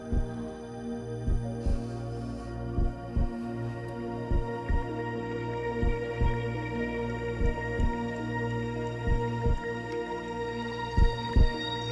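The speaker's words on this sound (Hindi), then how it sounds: "हम दोनों के दिल की धड़कनें एक कैसे हैं?" A dramatic heartbeat effect thumps steadily in a scene, paired beats repeating in a slow, even rhythm over a low sustained musical hum, with no voices present.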